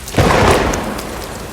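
A deep rumble of thunder rolls in under a broad wash of heavy rain, loud and close, then slowly fades.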